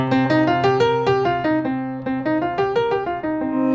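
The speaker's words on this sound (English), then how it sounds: "that's the pentatonic scale. That's the sound of the blues." A run of plucked pentatonic scale notes rises and falls in a steady rhythm, each note ringing briefly with rich harmonics, played alone with no talking.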